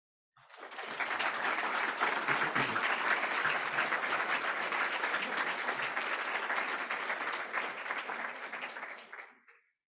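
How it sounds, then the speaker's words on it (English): An audience applauds after a presentation at a student design awards event, a dense burst of clapping that starts abruptly, holds steady for about nine seconds and then fades out. "Can we give a big round of applause for all the ICC presented today?"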